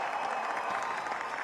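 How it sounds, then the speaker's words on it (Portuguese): A crowd at Trump's election victory speech applauds, a steady, fairly faint wash of clapping and crowd noise heard from a distance. "E o público aplaude."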